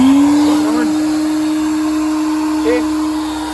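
A workshop vacuum cleaner motor runs close by with a steady hum and a rising whine that settles into an even pitch. It fades slightly over a few seconds with a brief bump near the end.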